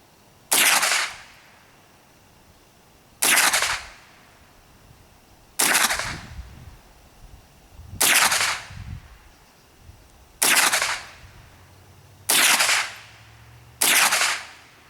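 Seven evenly spaced shots from a Ruger 10/22 rifle firing .22 long rifle rounds, first birdshot and then subsonic ammunition, each a sharp, fairly loud crack with a short tail, separated by pauses of about two seconds.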